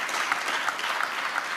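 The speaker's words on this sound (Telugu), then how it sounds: "గట్టిగా చప్పట్లు కొడితే యేసయ్యకు స్తోత్రాలు చెప్తాం" Church congregation clapping steadily in worship, a dense, continuous wash of many hands at close range with no break and no talk over it.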